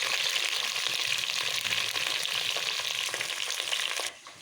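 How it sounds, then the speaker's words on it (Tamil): Radish sautés in oil in a pan for sambar, making a constant, close, crackling fry sizzle that runs steadily and then drops away abruptly near the end. "அதனால் முள்ளங்கி நல்லா வதக்கிடுங்க. நல்லா வதங்கி வரட்டும்."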